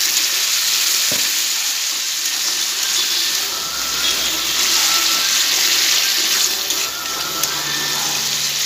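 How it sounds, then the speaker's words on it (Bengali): Water poured into a pan of jackfruit seeds cooking in mustard paste sets off a loud, continuous hissing sizzle, with bubbling and a faint clink near the start. "সামান্য একটু জল দিয়ে দেবো।"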